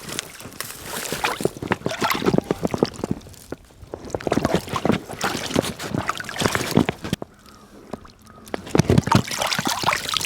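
A Watershed Futa float bag is pushed into water, with splashing and sloshing in bursts across the stretch, loud and close, under brief moments of quieter rustling.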